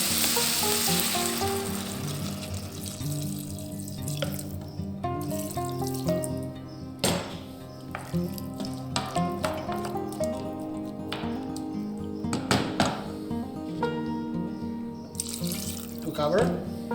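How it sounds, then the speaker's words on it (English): Water goes into a hot, sizzling pan while cooking, giving a steady frying hiss with sharp bursts of crackle and spatter, close by, under a voice talking in the kitchen. "Time to add some water."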